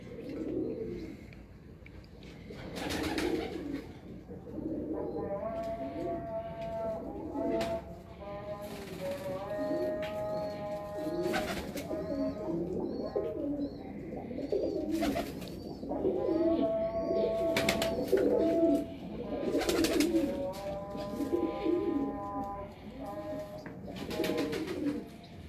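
Paired pigeons coo on a rooftop, repeated rolling coos in close, rhythmic bouts, with occasional wing flutters and soft chirps throughout.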